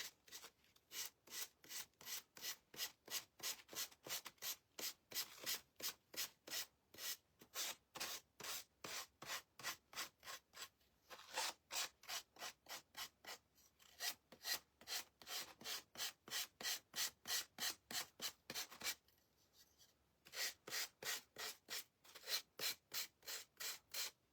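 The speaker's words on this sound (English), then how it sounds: "we have him all sanded off with the exception of this one little spot right here" Rhythmic hand sanding of a Dollar Tree bunny figure, steady rapid back-and-forth rasping strokes, close and clear, with a few brief pauses and no talking.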